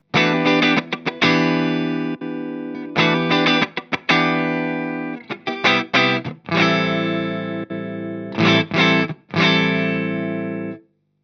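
Distorted electric guitar through a Mesa Triaxis preamp plays chords and short bursts, with sustained ringing stretches and brief stops, loud and close, no voices.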